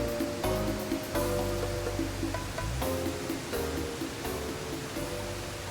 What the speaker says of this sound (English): Sounds like we're getting close to a waterfall.